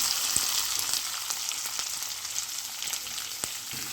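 Onions hitting hot oil with cumin seeds and urad dal for a dry potato sabzi, giving a steady close sizzle with faint stirring clicks throughout and no talk.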